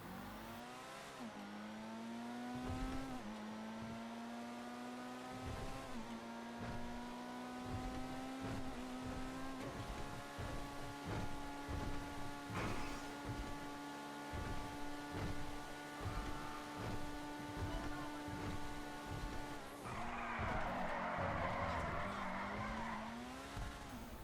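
Porsche 918-based 811 supercar in GTA V driving with a steady engine drone that climbs through gear shifts, punctuated by tire squeals and a burst of skidding near the end, loud and alone.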